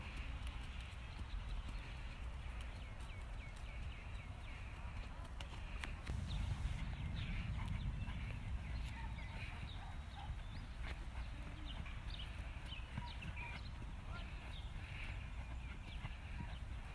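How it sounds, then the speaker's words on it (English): A horse trots on a farm, its hooves making a faint, steady clip-clop rhythm at a distance under a continuous outdoor background, with occasional hints of other animals. "Trot. Trot. Trot."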